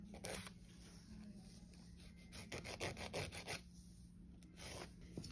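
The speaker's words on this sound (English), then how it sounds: "along with the hand file, you still want those long, clean, even motions." A hand file rasps along the edges of acrylic nails in long, even strokes, a quiet scratchy rubbing repeated in short bursts with pauses between passes, close to the microphone.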